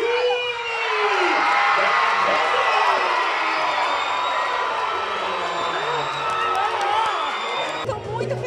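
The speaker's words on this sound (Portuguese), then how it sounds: "Uma salva de palmas para ela!" An audience cheers and applauds as a rural pageant queen is crowned, with loud sustained crowd noise, whoops and shouting throughout and a few voices rising above it.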